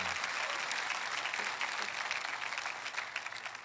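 A church congregation breaks into sustained applause during a sermon, a dense, steady wash of clapping from many hands holding its level throughout.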